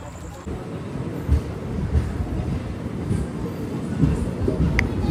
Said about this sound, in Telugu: మన ట్రైన్ అయితే కడప నుంచి అయితే స్టార్ట్ అయిపోయింది